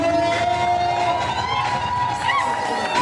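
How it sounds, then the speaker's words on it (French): Guests at a lavish wedding shout and cheer in a steady, crowded roar, with a few sharp whoops breaking through near the end. "Est-ce qu'on peut pousser les cris?"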